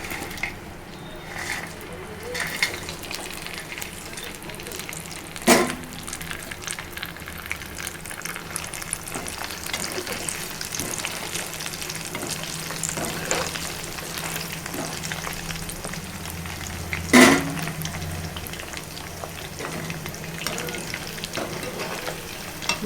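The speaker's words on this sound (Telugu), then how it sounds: "మీడియంలో పెట్టుకోవాలండి గ్యాస్ పైన. కొంచెం ఫ్రై అవ్వాలండి." Chicken pakodi pieces fry in oil over a medium gas flame, giving a steady bubbling sizzle throughout with a couple of sharp utensil clanks and occasional stirring.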